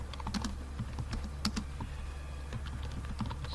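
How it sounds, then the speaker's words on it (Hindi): Quiet, quick typing on a computer keyboard: a string of light, irregular key clicks over a low background hum, with no voice. "मैं जस्ट यहाँ पे अगर टाइप करूँ"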